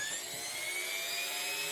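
A Dremel rotary tool grinds down the sharp point of a razor during a restoration, giving a continuous high, steady whine that stays close and loud without pause.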